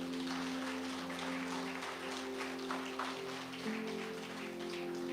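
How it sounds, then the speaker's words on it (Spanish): Steady applause for the Lord fills a church service, a continuous wash of clapping from a congregation, moderately loud and even, with a sustained tone running beneath it. "Le damos un aplauso al Señor."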